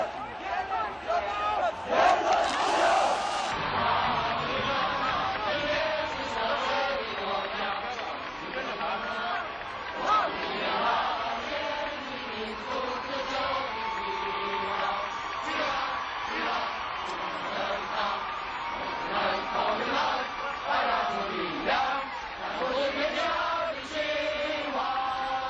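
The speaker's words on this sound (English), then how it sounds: "Tens of thousands of students responded by crowding the streets, singing, chanting, cheering, and creating a jubilant noise that was deafening." A dense crowd of students at a 1989 demonstration in China fills the air with continuous loud cheering, chanting and shouted singing, a steady roar of many voices with occasional whoops rising above it.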